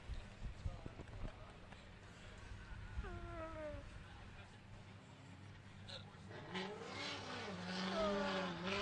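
A Roush Performance Ford Mustang on Falcon tires drifts during Formula DRIFT qualifying in Texas. Engine noise and sliding, squealing tires are heard at a distance under continuous loud announcer commentary.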